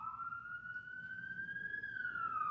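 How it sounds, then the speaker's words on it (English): Police car sirens pass along a street, a loud steady wail that slowly rises in pitch, holds, then drops as the vehicles go by, over a low rumble of traffic. "those are police cars going fast"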